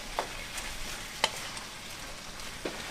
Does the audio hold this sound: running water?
no